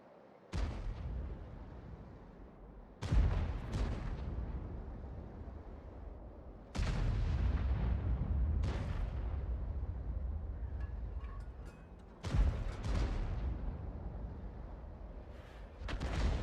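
Artillery shells fired from a G.W. E 100 self-propelled gun in World of Tanks: about five heavy booms at irregular intervals, each followed by a long rolling rumble, loud and close, with no talking.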